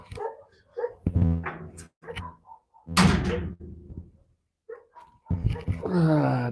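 Dogs bark in short bursts, some near and sharp with yipping, mixed with a thump like a door and a voice talking between the barks.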